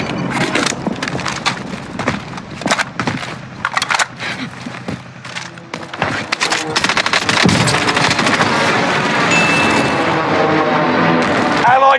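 A cluster airstrike in Call of Duty Warzone on Rebirth Island sets off a loud, rapid barrage of explosions and crackling impacts, with gunfire mixed in. The blasts grow into a dense, continuous roar toward the end, and voices talk over the action.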